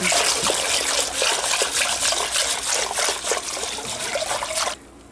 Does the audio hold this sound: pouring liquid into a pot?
yes